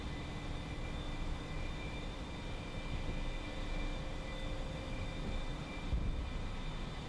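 Airplane taking off in a flight simulator video game, a steady droning engine roar with constant tonal hum, even and sustained throughout.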